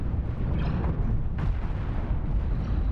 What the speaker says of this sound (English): Oh, nice explosion.